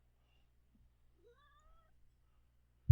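Small cat giving a faint, thin meow, a soft rising then falling cry in a quiet room, ending with a sudden low bump.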